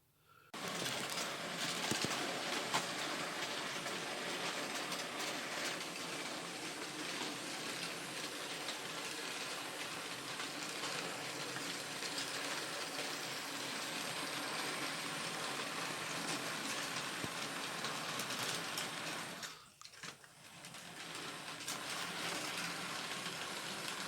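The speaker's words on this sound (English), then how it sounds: "Here we have a nice little freelance branch line train." A freelance branch line model train pulls four-wheel coaches along the track with a steady, quiet, continuous whirring rumble that dips briefly near the end before resuming.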